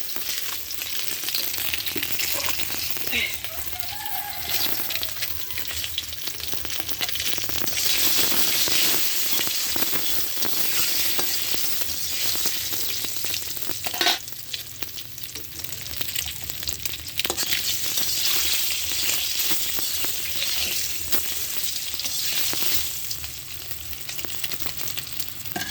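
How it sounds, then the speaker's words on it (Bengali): Salted eggs fry in a pan with a loud, continuous hiss that holds steady throughout, with a few faint scrapes of stirring, close up and with no voices. "লবণ দিয়ে আমি ডিমগুলো ভেজে নেব।"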